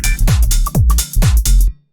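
A deep minimal house groove with punchy kicks under a busy, syncopated hi-hat and percussion pattern, loud and close, looping briefly before cutting off abruptly.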